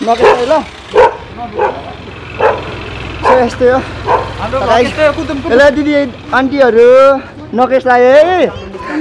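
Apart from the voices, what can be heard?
dog barking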